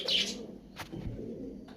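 Pigeon cooing in a loft of Aliwala and Teddy pigeons, with soft murmuring coos and a brief chirp, fairly close against a low background hum.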